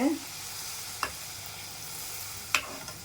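Spinach palak puri frying in hot oil, a soft continuous sizzle with two sharp clicks of a utensil against the pan.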